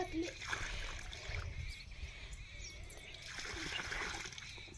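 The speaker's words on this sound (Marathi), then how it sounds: "तुळशीला पण भरपूर पाणी घाल" Water splashes and gushes continuously onto the ground around a basil plant while people talk nearby.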